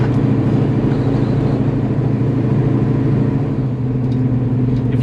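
A 1969 Ford Cobra Jet muscle car engine rumbles at a steady idle, loud, deep and continuous, heard close up with no speech over it.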